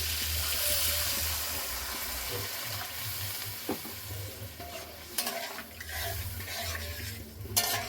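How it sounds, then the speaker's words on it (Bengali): Water poured into a pot of peas and spice mixture for ghugni sets off a hiss and bubbling stir, with a couple of louder splashes and clinks near the end and no talk. "এবার দিয়ে দেবো জল।"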